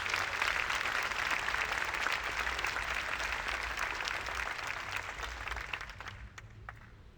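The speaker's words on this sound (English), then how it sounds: "Again, big round of applause for them." Audience at a county State of the County address applauding, dense sustained clapping from a crowded room that slowly thins and fades out near the end.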